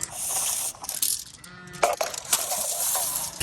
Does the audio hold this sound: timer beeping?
no